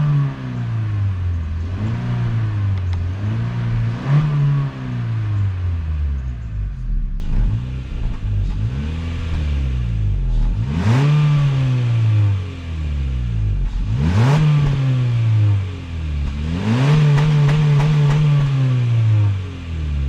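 A 2022–2024 Honda Civic Sport hatchback with a 2.0 engine and manual gearbox revs repeatedly while driving, its exhaust rising and falling through gears in loud, rumbling sweeps that dip between shifts.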